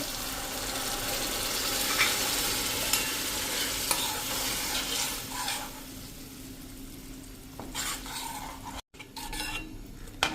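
Bottle gourd puree with cooked tomatoes stirred in a pan over a slow-to-medium flame, a steady close scrape of a spoon against the pan over soft bubbling sizzle, easing off and turning intermittent toward the end, with no talking.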